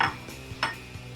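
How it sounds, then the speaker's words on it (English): Pancetta goes into a pan of softened cherry tomatoes, with a few close, light clinks and scrapes of a utensil against the pan recurring at a steady pace over a faint low sizzle. "I'm going to add the pancetta in here."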